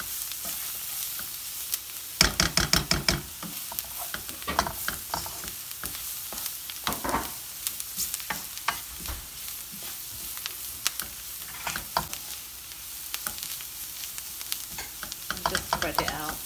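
Spices frying in a pan with milk being stirred for a chicken bread recipe, a soft continuous sizzle punctuated by scraping spoon strokes and clacks, heard close with no talking.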